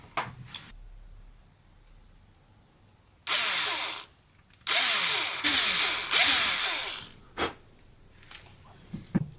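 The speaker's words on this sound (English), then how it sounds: "I'm going to drill a little bit of the pupil out with my hand drill." A hand drill whirs into a resin eye in several loud bursts with grinding, ratcheting texture, separated by quiet pauses and small clicks.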